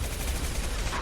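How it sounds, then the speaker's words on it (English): Impact shot gunfire in the Mass Effect 2 video game, a dense, loud burst of booming, rumbling weapon fire filling the whole second without pause. "Firing an impact shot."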